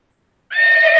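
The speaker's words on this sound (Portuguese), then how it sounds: "Ó, uma égua aí, um cavalo." A horse whinnies once, a loud close neigh starting abruptly after a half second of silence and held steady to the end, played as a local audio file.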